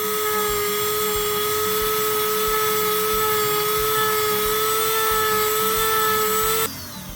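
A Dremel rotary tool whines at a steady high pitch while grinding model tires for super wheels, loud and continuous, then spins down near the end.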